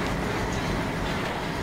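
A locomotive reversing in a train video game rumbles and rattles steadily at close range, a dense continuous roar with no talking.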